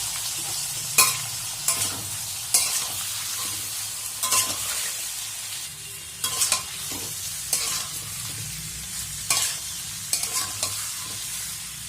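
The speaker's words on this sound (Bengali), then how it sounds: "কড়াইতে তেল দিয়েছি, এবার ইঁচড় আর আলুটা ভেজে নেব।" Jackfruit and potato pieces fry in hot oil in a wok, a steady close sizzle punctuated by repeated scraping stirs of a spatula every second or two, with no voices.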